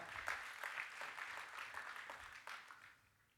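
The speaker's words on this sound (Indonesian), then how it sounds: "Boleh kasih tepuk tangan yang terbaik." An audience at a youth church sermon applauds, a dense, fairly loud burst of clapping that holds for about three seconds before fading out.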